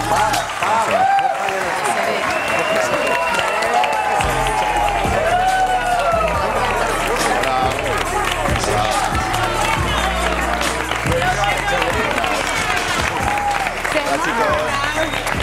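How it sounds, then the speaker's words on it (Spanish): A Spanish reality-show studio audience bursts into loud, sustained applause and cheering, steady and dense throughout with crowd noise and no clear speech on top. "recibimos un fuerte aplauso a Sema y a Rafa."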